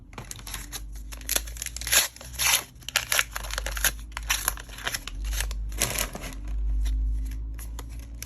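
Foil trading card booster packs from a Magic: The Gathering case being torn open and handled, a steady run of close crinkling, tearing and shuffling card noises with sharp bursts, no talk.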